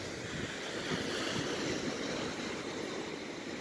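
Ocean surf along the North Cliffs at Santa Cruz forms a continuous broadband wash of breaking waves, steady and fairly distant, with some wind noise and no voices.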